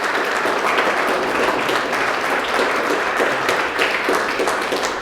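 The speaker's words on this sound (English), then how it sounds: "applause." Sustained audience applause fills the space at an ATLAH website roll-out event, a dense, steady wash of many hands clapping at constant loudness throughout.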